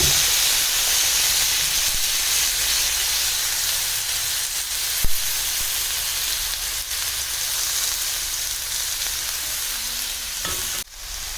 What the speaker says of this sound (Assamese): সেই একেখন কেৰাহীতে অকণমান তেল দি লৈছোঁ। এতিয়া আমি যিখিনি কাটি ৰাখিছিলোঁ সেই গোটেইখিনি এতিয়া ইয়াতে দি দিম।